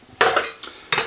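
Pieces of a camping cook kit, a small frying pan and a metal cup, clatter and clink together in three short bursts of handling at close range.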